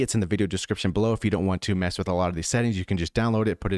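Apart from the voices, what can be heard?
No distinct noise like a dog, phone or traffic.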